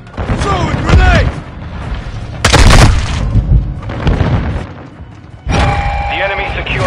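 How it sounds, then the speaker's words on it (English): Grenade explosions in a Call of Duty multiplayer match: several loud, booming blasts in bursts, with game announcer chatter and voices heard around them. "Throw a grenade!"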